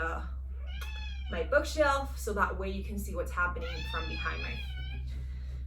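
A house cat meows repeatedly, with drawn-out and wavering cries heard close by while a person talks over it indoors against a low steady hum.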